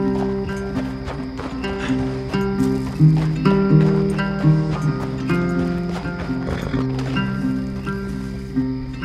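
A horse gallops in a Red Dead Redemption 2 cutscene, its rhythmic hoofbeats running under sustained orchestral music.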